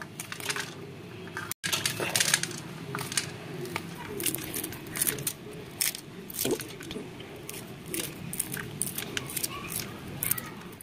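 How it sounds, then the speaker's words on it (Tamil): Green chillies being chopped into small pieces with a knife while preparing tea bonda: close, irregular light taps and cuts against a board, with faint background sounds. "நம்ம என்ன செய்ய போறோம்னா பொடிசு பொடிசா கட் பண்ண போறோம்"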